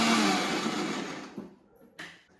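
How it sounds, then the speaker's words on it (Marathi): A kitchen mixer grinder whirs loudly as it grinds coconut and ginger masala, then winds down and cuts off, followed by a short clatter. "मस्तपैकी मिक्सर किचनमधून हॉलमध्ये नेला आणि मसाला पटकन बारीक वाटून घेतला"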